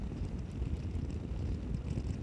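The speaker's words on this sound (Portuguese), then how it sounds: "esse vento vai começar a atrapalhar o rolê agora" Wind buffets a microphone outdoors with a steady, low rumbling roar that fills the whole stretch without a break, loud and close, with no talk over it.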